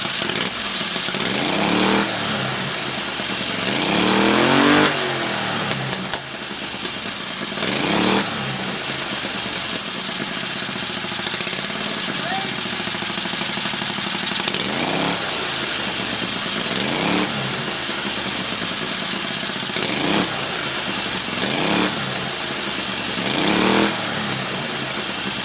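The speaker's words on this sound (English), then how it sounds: "it is legit spooling, guys, and it sounds pretty sick" A V-twin 670cc buggy engine fitted with a mini turbo runs close by, its steady idle broken by repeated revs that rise and fall every few seconds, with the turbo whistling as it spools.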